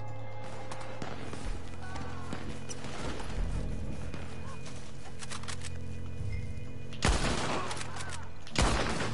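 Gunfire in the Western game Red Dead Redemption 2 Online: a few sharp, loud shots stand out over a steady busy game soundscape with hoofbeat-like clatter, the last two shots spaced well apart.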